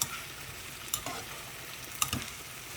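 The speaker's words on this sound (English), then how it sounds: "I'm gonna saute your vegetables" Vegetables sauté in a pan for a Jamaican-style red snapper and mashed potato meal, a faint continuous sizzle broken by two brief stirring scrapes.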